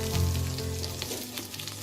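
Hilsa paturi wrapped in leaves sizzles in oil on a tawa, giving a continuous crackling fry with scattered small pops over a low steady hum.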